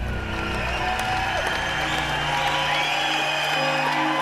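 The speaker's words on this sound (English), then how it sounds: "The crowd just roars." A large crowd roars and cheers at George Washington's inauguration as President of the United States, a dense, steady wall of voices sustained at full volume for the whole stretch.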